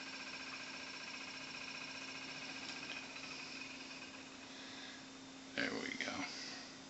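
A small magnet motor driven by a coil salvaged from a speaker spins with a steady, faint, tonal whine and a low hum, and a brief muffled voice comes through near the end.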